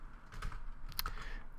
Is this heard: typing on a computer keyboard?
yes